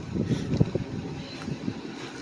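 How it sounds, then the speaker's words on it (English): Gusty wind buffets the microphone with low rumbling bursts, fairly quiet and uneven, with no talking. "It's gonna be a little windy."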